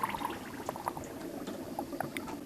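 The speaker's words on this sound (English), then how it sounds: "They were then cycled in the ultrasonic cleaner with the heater turned on for 4 minutes" Crest commercial ultrasonic cleaner with its heater on, running brass cartridge casings in a diluted Hornady One Shot and distilled water bath; a steady fizzing, bubbling wash with scattered small pops and gurgles, close and moderately quiet.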